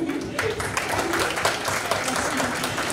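An audience at an International Francophonie Day event breaks into scattered applause for a child's question, clapping mixed with overlapping talk throughout.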